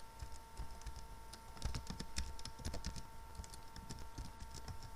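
Quick bursts of typing on a computer keyboard, close and fairly soft, with irregular clusters of key clicks and short pauses between them, no voices.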